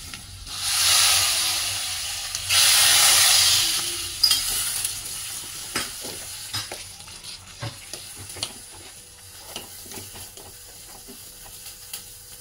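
Fried ingredients tipped into a raw jackfruit dish burst into a loud sizzle and hiss, then settle into stirring with scattered clinks of a spoon against the pan, close and without talk.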